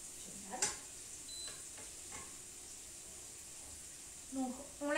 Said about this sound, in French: Donc on laisse revenir un petit peu les échalotes